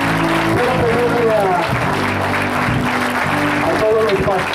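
Church congregation applauding loudly and steadily throughout, mixed with voices and sustained music tones underneath.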